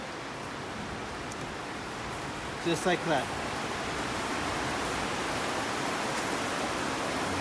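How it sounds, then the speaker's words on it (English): Heavy rain pours down outdoors beside a 2019 Subaru Crosstrek during a reverse bulb swap, a steady loud hiss filling the whole stretch, with someone speaking briefly over it. "We got rain coming down, pouring, so I'm gonna try to talk a little bit louder."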